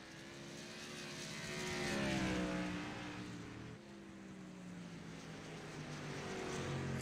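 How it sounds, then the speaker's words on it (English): A tour modified race car warming its tires at Texas Motor Speedway, its engine droning steadily with pitch swells as it circles, loud and fairly close throughout with no talking. "He's warming up the tires right now and getting everything ready to rock and roll."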